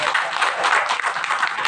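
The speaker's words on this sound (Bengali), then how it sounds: "আমরা একটা হাততালি দিই।" A crowd claps at a press club gathering of Pabna district journalists, giving a short burst of dense applause that stays steady and fairly loud throughout, with no voices standing out.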